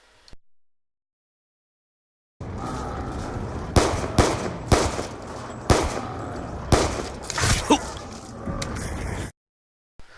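Sustained, loud gunfire in Black Ops 2 zombies mode, with a run of sharper single shots punctuating the steady firing for several seconds before it cuts off abruptly.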